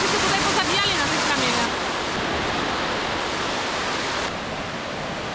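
Tumpak Sewu waterfall in Java, Indonesia, heard up close: a loud, unbroken roar of falling water filling the whole clip like broad rushing noise, dipping slightly in level partway through.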